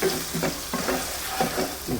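Rhythmic scraping strokes of a utensil stirring chili powder and fish curry powder in a frying pan, about six quick passes over a soft, steady sizzle.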